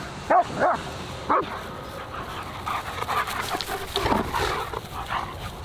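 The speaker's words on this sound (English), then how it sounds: "I don't know if you can hear the dog barking in the distance" A dog barks a few times far off against a steady outdoor background hiss, with fainter yips and whines following.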